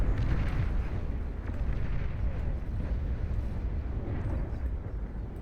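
Long-range plasma cannons in the strategy game Beyond All Reason firing during a large 8v8 deathmatch: a steady, heavy rumbling roar of distant blasts, dense and continuous with no distinct single shots, voice faintly present.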